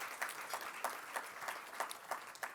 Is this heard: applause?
yes